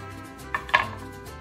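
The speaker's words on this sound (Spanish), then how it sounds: "yo abro los chiles por la parte de atrás y después los parto a la mitad" A knife cuts open chiles on a board in two quiet, close cuts, a soft tap followed by a slightly sharper slice against faint background hum.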